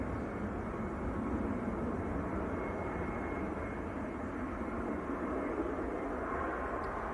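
A Ryanair Boeing 737-800 jet at Manchester Airport rumbles as a distant, steady engine roar from outdoors, holding at a fairly low level throughout.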